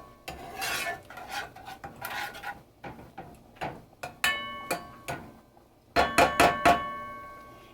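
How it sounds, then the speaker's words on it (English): A spoon scrapes and clatters against a hot pot while stirring sautéing ingredients for Puerto Rican rice and beans, making rhythmic rasping strokes and sharp metallic knocks near the microphone. "So I'm going to stir this all up."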